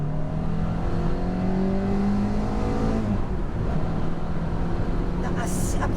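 A Renault 19 16S engine revs hard and high near 6000 rpm, a loud continuous drone that climbs in pitch, heard from inside the car under steady road and wind noise.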